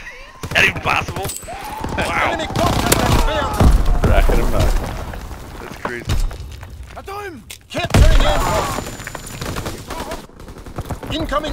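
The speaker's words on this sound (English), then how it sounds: "Incoming enemy artillery!" Incoming artillery barrage in the Call of Duty WWII multiplayer game, heavy booms and rapid gunfire bursts crashing repeatedly over several seconds, loud and dense, with game voice callouts mixed in.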